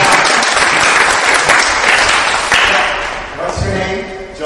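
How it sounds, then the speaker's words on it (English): Dense applause from drama workshop participants fills the room, loud and steady, then thins toward the end as a voice begins speaking. "Give them applause."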